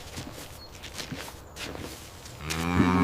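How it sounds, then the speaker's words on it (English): A cow gives a deep, loud moo near the end, preceded by shuffling hoof steps and rustling on the ground, close by with no talk. "It's a cow."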